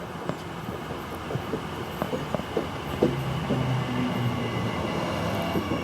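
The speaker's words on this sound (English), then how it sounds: "There's a train." A train rolls through Linden railway station in the Blue Mountains, a steady rumble with rhythmic wheel clatter and faint squeals heard from the platform at moderate distance.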